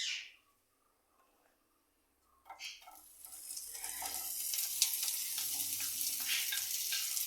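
Thin rounds of sliced ginger hit hot coconut oil with a sudden loud sizzle that settles into steady crackling frying, stirred with faint scraping, after a quiet start.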